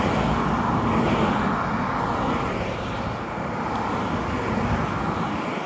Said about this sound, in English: It might get a little noisy from the traffic because this is a very busy street.